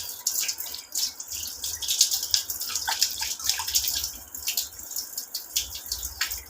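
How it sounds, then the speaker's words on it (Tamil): Water running steadily from a tap while hands are washed, a continuous hissing splash with light drips and no talking. "கை கழுவி கொடுக்கலாம்."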